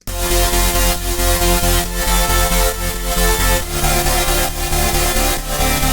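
Melodic dubstep mix in a tear-out drop, full arrangement playing together: loud, dense synths over heavy bass and driving drums, steady rhythmic pulses throughout with no talking.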